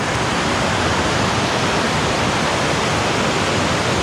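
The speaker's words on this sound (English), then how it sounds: "It's a little waterfall right out of a fairy tale." A small waterfall on a river on Vancouver Island, below cliffs 50 to 70 feet high in autumn, gives a steady, full rush of falling water. It is loud and even throughout, with no voices.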